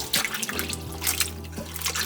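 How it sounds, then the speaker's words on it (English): Running water splashes and trickles over blueberries being rinsed, a short, close, continuous wash with small drips and patters. "The PSA to wash your fruit."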